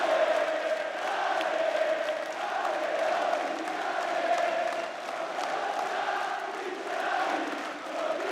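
A home basketball crowd roars through EuroLeague crunch time, a steady, dense wall of cheering and whooping that swells and dips slightly without a break.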